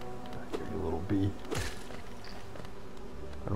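Bees buzz during a boss fight in the Hollow Knight video game, a faint droning hum mixed with game effects and someone talking over it.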